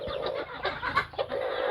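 Native chickens of Hubbard and native mixed breed cluck nearby in short, uneven bursts, a few close calls overlapping against a soft farmyard background.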